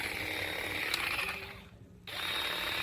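A cordless Dewalt 20V hedge trimmer runs with a steady high buzzing whine and mechanical rattle, close and continuous, briefly dropping off before resuming at full speed.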